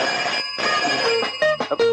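A telephone rings loudly and close by, sounding alone in short repeated bursts of bright electronic trilling with brief gaps between them.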